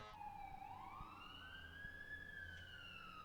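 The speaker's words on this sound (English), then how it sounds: "There appears to be a fire truck or an ambulance or something going by." A single wailing siren rises and falls slowly, faint and distant, over a low steady background hum, as an emergency vehicle passes.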